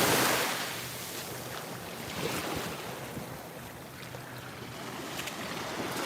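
Ocean surf rolling onto Fort Myers Beach, a continuous broad wash of breaking waves mixed with wind buffeting the microphone, no voices.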